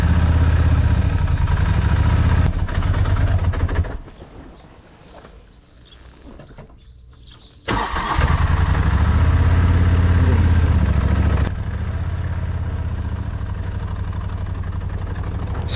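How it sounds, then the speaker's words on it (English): A Moto Guzzi Griso motorcycle engine runs close by with a deep, loud idle, drops away to a quiet lull for several seconds, then rumbles back strongly and settles into a steady idle. "It's always a good thing when the motorbike starts."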